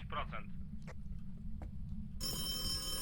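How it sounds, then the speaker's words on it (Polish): A telephone rings inside the ghost-hunting game Phasmophobia, a loud, steady electronic ring that starts abruptly partway through and continues to the end, following a stretch of quiet with brief voice sounds. "telefon mi dzwonił"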